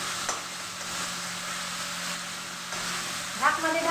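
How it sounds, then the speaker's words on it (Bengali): Goat mince keema frying over low heat in a pan, a steady broadband sizzle throughout with a brief clatter of stirring near the end. "এইভাবে কিমাটা হালকা তাপে 3 থেকে 4 মিনিট মতো এইভাবে ভাজবো।"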